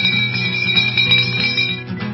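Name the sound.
hand bell rung to call everyone to the show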